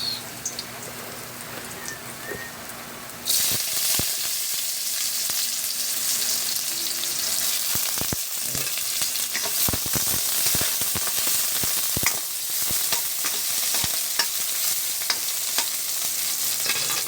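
Garlic and onion fry in a pan with a loud, steady sizzle that jumps up after a few seconds and carries on with scattered crackles and stirring clicks throughout.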